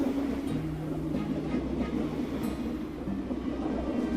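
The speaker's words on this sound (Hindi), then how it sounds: "ट्रेन अचानक आगे चलने लगती है।" A train pulling away in a Hindi story sound effect: a steady rumbling low drone with faint tonal hums, constant and fairly loud for a few seconds, no voices.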